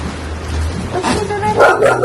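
A dog barks and yips a few times in a home, short bursts toward the end over background noise, with people talking nearby.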